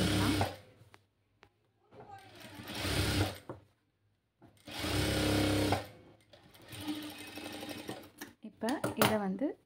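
A sewing machine stitches a single-folded sleeve edge in yellow thread, running in several bursts of a few seconds each with quiet pauses between, and someone talks over and between the runs.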